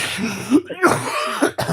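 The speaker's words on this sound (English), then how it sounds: "You're making me cough now" A couple of short, harsh coughs or throat-clearing bursts, close and fairly loud, with brief breathy pauses between them.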